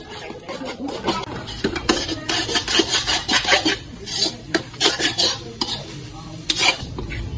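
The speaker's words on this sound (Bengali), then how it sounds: "ডিমগুলো তেলে দিয়ে ভালো করে ঝুড়ে ঝুড়ে করে নিলাম" Two dozen eggs scrambled in oil in a pan, with a spatula scraping and stirring in quick, uneven strokes over a soft sizzle, close and busy throughout.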